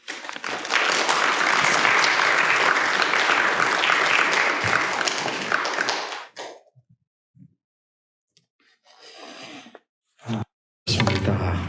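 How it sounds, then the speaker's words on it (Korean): A church congregation breaks into loud, sustained applause to welcome the pastor, dense clapping for about six seconds before stopping abruptly, followed by scattered brief noises and a short burst of renewed clapping at the end. "우리 목사님 나오실 때 우리 환영하는 의미로 우리 박수 한번 합시다"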